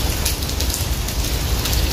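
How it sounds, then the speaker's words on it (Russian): Steady rain falls outdoors, a dense, even hiss of drops with no pauses, fairly loud and close, with no voices. "конечно, идет дождик"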